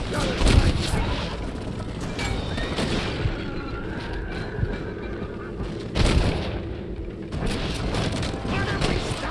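Gunners in the Red Dead Redemption video game open fire, and several loud, booming shots ring out, with sharp bursts near the start and again around the middle. Steady background noise continues in between.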